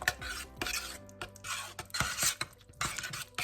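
A spoon stirs spaghetti sauce in a pot over low to medium-low heat, giving close scraping and clinking against the pot in an irregular run of strokes, with no talking.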